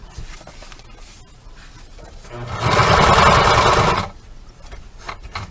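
Sewing machine stitching a cornhole bag, a single loud burst of rapid stitching lasting about a second and a half, with quieter handling sounds before and after.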